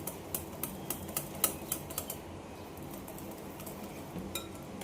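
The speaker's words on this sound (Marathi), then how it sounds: "आता आपण हे चांगलं मिक्स करून घेऊ बेसनचं पीठ छान चांगलं मिक्स करून घ्यायचं" A utensil whisks gram flour (besan) batter for dhokla in a bowl, giving a quick series of light clinking taps against the bowl's side, then a softer, steadier stirring sound.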